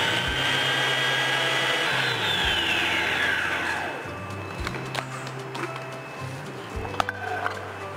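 A food processor spins up on a single turbo pulse to chop coriander stems, leaves and garlic, giving a loud whirring roar that winds down over several seconds into rattling and faint knocks.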